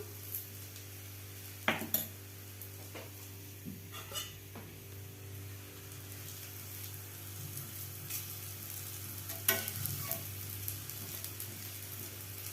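A radish paratha fries in ghee on a hot tawa with a steady, soft sizzle, broken by a few light taps and scrapes of a utensil, no voices.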